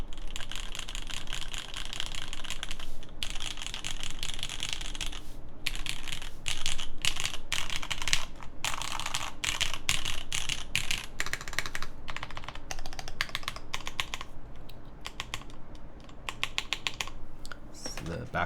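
Steady clacky typing on a custom LZ RE mechanical keyboard: rapid bursts of crisp keystrokes with brief pauses, close and fairly quiet, with some talk softly in the background.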